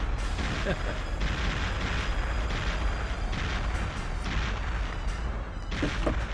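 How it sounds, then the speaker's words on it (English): Continuous loud explosion scene from the video game Perfect Dark, dense rumbling booms and crackling blasts with gunfire-like bursts throughout, filling the whole stretch without pause. "Wow, they're really milking this explosion scene."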